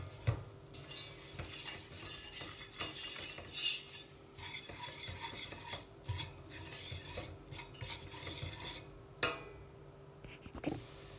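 Flour toasting in melted butter for Bursa-style milk halva, stirred with a utensil that scrapes and clinks against the pot in uneven bursts over a soft, low sizzle; close and fairly quiet, no talking.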